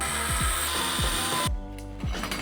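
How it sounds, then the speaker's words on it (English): A screwdriver ratchets with rapid clicking while unscrewing the expansion slot screws on a Phanteks Evolv X2 PC case. The loud, close mechanical clicks come in repeated runs, broken by a short pause. "we're gonna go ahead and unscrew 1, 2, the second and third slots"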